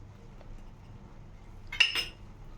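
A metal spoon clinks twice against a pan while cardamom powder is stirred into coconut burfi, brief light chinks over a faint, quiet background.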